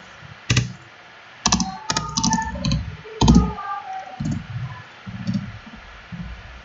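Typing C++ code on a computer keyboard: irregular bursts of close, crisp key clicks and taps with short pauses, heard alone with no voices.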